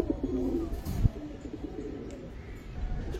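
A pair of home-bred Giribaz pigeons coo close by, a low rolling burr near the start fading into a soft ongoing murmur with faint background noise.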